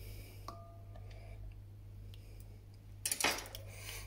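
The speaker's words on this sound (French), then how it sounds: "nous allons commencer par mélanger donc dans de l'eau tiède notre levure boulangère" Baker's yeast being stirred into lukewarm water for pizza dough: a few faint, sparse clicks of a utensil, then a short burst of louder scraping and clinking near the end against a quiet, humming room.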